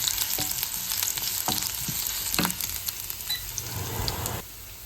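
Ginger and garlic sizzle briskly in hot oil while a spatula scrapes and stirs them in a few distinct strokes. The frying fades somewhat near the end, with no voices.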